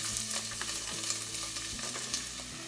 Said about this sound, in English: I'm going to now add some chopped onions and some celery.